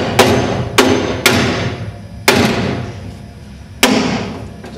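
Steering shaft being hammered onto its splines: five sharp metallic knocks at uneven intervals, each ringing briefly and decaying, close by with a steady mechanical hum underneath.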